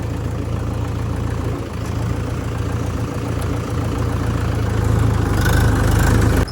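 A Mahindra 475 DI Sarpanch tractor engine idles in a steady, low diesel rumble that swells slightly toward the end, with no voices over it.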